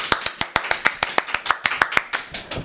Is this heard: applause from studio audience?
yes